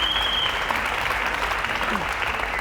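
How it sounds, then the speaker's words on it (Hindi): Studio audience claps steadily on a Hindi TV courtroom-style interview show, a dense, even wash of applause lasting throughout. "मुझे लगता है कि भट्ट साहब के लिए ज़रूर ऑडियंस को ताली बजानी चाहिए"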